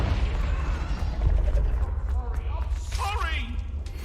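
A Confringo spell explosion in Hogwarts Legacy lands as a deep, heavy boom early on, followed by rumbling debris and a higher magical whoosh, with voices speaking over the game sounds.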